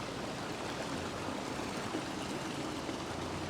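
A river flows steadily close by, a constant rushing and burbling of water with no breaks and no voices over it.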